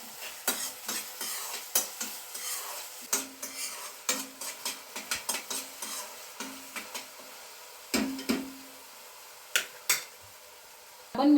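Onions or similar being sautéed with salt in a pan over a medium gas flame, a spoon scraping and stirring in scattered clinks and scrapes over a soft, low sizzle.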